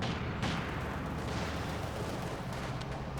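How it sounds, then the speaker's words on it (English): Mortar shelling in Company of Heroes 2, a steady rumble of distant impacts and gunfire rolling on without pause, with one sharper crack near the start. "Mortar is taking shots to where the Panzer IVs are right now."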